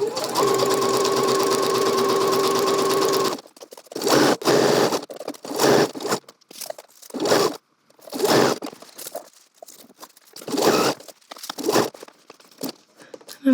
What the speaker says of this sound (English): Put the presser foot back down, and then continue stitching.